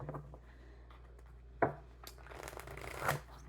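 A tarot card deck is shuffled close by in soft, papery riffles and rubs, punctuated by two sharp snapping bursts a second or so apart.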